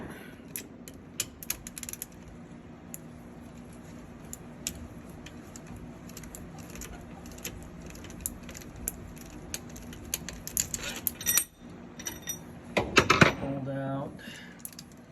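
Bolts being worked out of a boat's port riser with a wrench, giving scattered metallic clicks and ratcheting creaks over a steady background hum, then a louder burst of clanking near the end.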